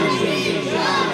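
A large crowd at a Milad religious gathering shouts a response to a slogan in unison, one loud, dense burst of many voices lasting about a second.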